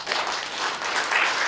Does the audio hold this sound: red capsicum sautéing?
no